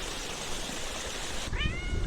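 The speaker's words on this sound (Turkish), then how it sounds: "Bu da buranın kedisi." A cat at an outdoor fish grill place gives a single short meow near the end, rising clearly above a steady hiss of background noise.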